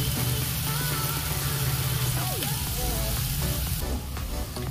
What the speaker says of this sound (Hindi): ये देखिए हमारा जो मसाला है पकना स्टार्ट हो गया है, थोड़ा थोड़ा तेल अलग होना शुरू हुआ है